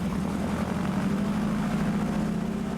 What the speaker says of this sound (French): Le fascinant survol d'un territoire à partir d'un avion de brousse a toujours singulièrement captivé les fervents de découverte.